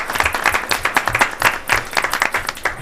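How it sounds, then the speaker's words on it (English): Audience applause at a transit authority board of directors meeting, a steady round of clapping from a modest crowd, fairly close and sustained throughout. "if they'd like to stand up for a little round of applause"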